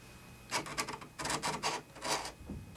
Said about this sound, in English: I used my paint scraper here ever so gently, so I'm just going to keep painting this up. Painting and scraping